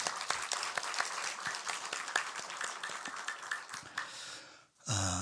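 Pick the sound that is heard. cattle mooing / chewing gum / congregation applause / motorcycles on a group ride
congregation applause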